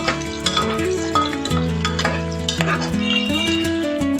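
Onions frying with whole garam masala in a pan are stirred, giving a close sizzle broken by metallic scrapes and clinks of the spoon against the pan, with steady tonal background music running underneath.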